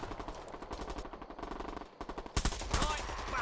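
Automatic gunfire in an online first-person shooter video game, sustained rapid bursts close up with heavy sharp shots toward the end, under occasional talk.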